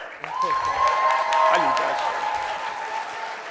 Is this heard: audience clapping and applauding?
yes